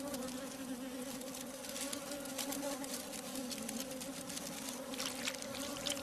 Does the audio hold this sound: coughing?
no